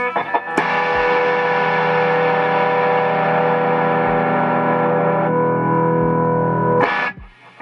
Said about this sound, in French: j'envoie juste un accord en position ouverte